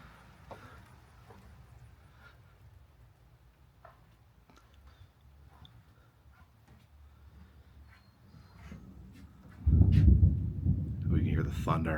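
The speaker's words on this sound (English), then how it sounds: "thunder rumbling in the mountains" Thunder rolls through mountains near old log cabins, first as a faint, distant low rumble under soft background sounds, then swelling into a loud, close, sustained roll near the end.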